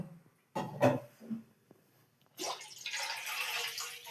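Water for pasta is poured from a vessel into a pot in a home kitchen, first a couple of short splashes, then a steady, close, moderately loud pouring stream.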